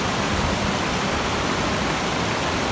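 Fast-flowing floodwater after extremely heavy rain rushes past in Porbandar, a dense, steady broadband roar with no pauses and no voices.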